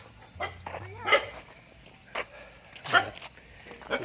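A dog barks several times in short, spaced bursts outdoors at dusk, moderately close, over a faint background of insects and low hum.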